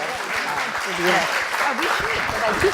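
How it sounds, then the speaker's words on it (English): Audience applause after a panel on women in politics, a steady clapping wash with people talking and calling out over it. "Let's give them all a big round of applause to thank them for"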